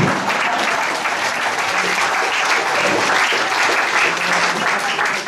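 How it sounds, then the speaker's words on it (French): Dense, steady audience applause fills the room for about five seconds at a family celebration honouring Pierre, loud and unbroken without any clear pauses. "tout le monde applaudit."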